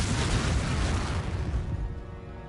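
Confringo fire spell exploding in the Hogwarts Legacy game, a loud rushing blast that fades out over a couple of seconds.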